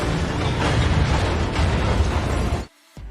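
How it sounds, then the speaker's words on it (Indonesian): A remote-controlled plane blows up in a Fast & Furious 9 film scene: a loud, dense, roaring explosion lasting over two seconds, then a sudden cutoff and a brief last burst. "Pesawat Cypher seketika meledak dan hancur."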